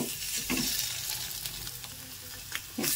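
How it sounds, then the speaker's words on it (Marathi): Eggs sizzle and crackle in a hot pan for a spicy egg curry, a continuous frying hiss broken by a few scraping stirs, with no voices. "चांगली भाजून घ्यायचे अंडे"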